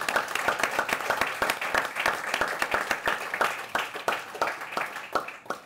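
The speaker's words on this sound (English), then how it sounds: "let's have a round of applause for all of my panel" An energy-conference audience applauds a panel, a moderate crowd clapping steadily with distinct individual claps audible, tapering off over the last second.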